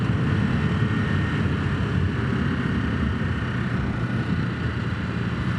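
Steady, loud drone of a Ducati Hypermotard 950 SP motorcycle riding the Oberharz roads in Germany, a continuous low engine rumble with wind noise and no pauses.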